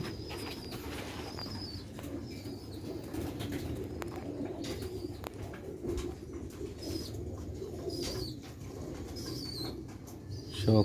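Sialkoti pigeons cooing in a loft, soft repeated coos layered over a steady bed of rustling and wing flutters, with occasional chirps; no talking.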